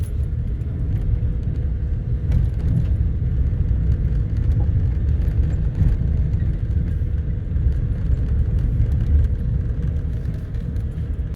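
A four-wheel drive vehicle idling and rolling up on a dirt trail, a loud, steady low engine rumble close by, with faint rattles over it.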